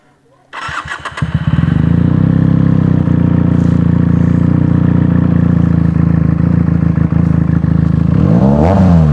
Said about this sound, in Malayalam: നമുക്ക് ഈ ഒരു ബൈക്കിൻ്റെ സൗണ്ട് കേൾക്കാം.